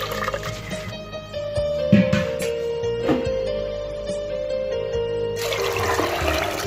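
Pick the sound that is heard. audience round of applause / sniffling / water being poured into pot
water being poured into pot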